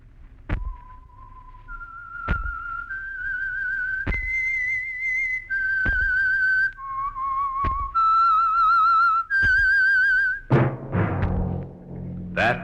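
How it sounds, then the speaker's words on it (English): Whistled theme tune of The Whistler radio program for Signal Oil, a clear solo whistle stepping through sustained notes, each note entering with a sharp attack, ending in a brief orchestral flourish. "That whistle is your signal for the Signal Oil Program, The Whistler."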